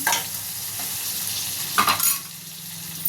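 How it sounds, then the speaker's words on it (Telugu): Fried drumstick pieces being stirred into a curry pan, with a steady sizzle and a couple of brief scraping strokes near the end, close and clear with no talking. "కొంచెం సేపు ఫ్రై చేసి పెట్టుకున్న ములక్కాయ ముక్కలు కూడా వేస్తున్నా. ఒకసారి కలుపుకున్నా."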